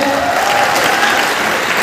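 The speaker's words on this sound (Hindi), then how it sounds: "एक बार जोरदार हाथ ताली बना चाहिए उमेश साहब के लिए" Audience applause at a corporate gathering in Kolkata, a dense, steady burst of many hands clapping at full volume for the whole two seconds, with no voices rising above it.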